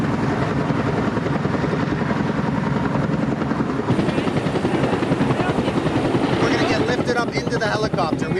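A search and rescue helicopter's rotor thuds loudly and continuously at close range throughout, with people talking faintly beneath the steady engine roar.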